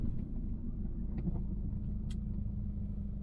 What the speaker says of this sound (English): the supercharger's whining louder